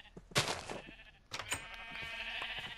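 Sheep in Minecraft on PlayStation 4 give two quick, close bleats, each a short nasal cry. A louder, wavering bleat follows and drags on to the end.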